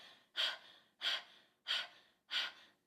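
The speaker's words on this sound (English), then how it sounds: "Basically what you're doing is panting while you're pushing the air out" A singer does a slow panting breathing exercise, four evenly spaced breathy exhalations, each a sharp close puff of air trailing off, alone in quiet.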